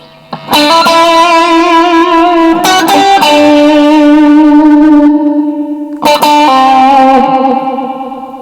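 Electric guitar played through a TANK G multi-effects unit with delay: loud sustained distorted chords struck a few times, each ringing out with echoing repeats, no talk.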